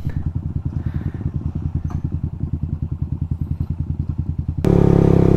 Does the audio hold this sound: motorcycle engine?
yes